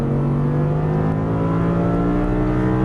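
An Audi R8 V10 accelerates on a racetrack, its engine a loud, steady, close roar with strong harmonic drone that holds throughout without a break.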